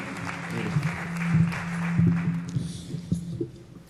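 Applause from an audience at a Peruvian event on maritime delimitation as a congresswoman is welcomed for closing words, moderate clapping mixed with a steady hum and some murmuring.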